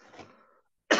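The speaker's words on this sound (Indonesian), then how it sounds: "Jadi batuk." A single short, sharp cough near the end of a church reflection talk, coming after a brief stretch of faint murmuring and near silence.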